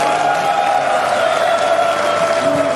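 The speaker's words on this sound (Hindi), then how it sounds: "तालियां उस तरीके से नहीं बज रही जिस तरीके से आपको बजानी चाहिए।" A crowd at a dance-day arts event claps and cheers continuously, a loud steady wash of applause with a sustained tone running underneath.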